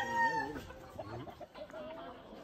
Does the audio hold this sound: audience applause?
no